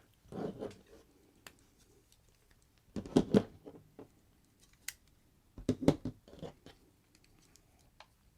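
Three clusters of sharp metallic clicks and snaps, spaced a few seconds apart, as Leatherman Bolster folding multitools are closed up nearby in a quiet room.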